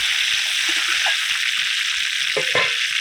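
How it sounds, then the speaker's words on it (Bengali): Chopped capsicum, garlic and cabbage sizzle steadily in a hot pan, with a few soft stirring scrapes and no voices. "এদিকে সবজিগুলো ভাজা হতে থাকুক"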